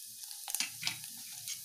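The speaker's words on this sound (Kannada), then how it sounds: "ಹಾಗೆ ಕಾದಿದೆ ಆಯಿಲ್, ಅದಕ್ಕೆ ನಾನು ಸಾಸಿವೆ ಸೇರಿಸ್ಕೊಳ್ತಾ ಇದ್ದೀನಿ." Mustard seeds and dried red chillies tempering in hot coconut oil, a quiet, steady sizzle with small crackling pops scattered through it.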